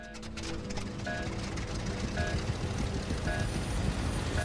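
A helicopter in the adventure video game Amerzone, running rough and unhealthy, gives a steady, dense rotor and engine drone that stays constant throughout.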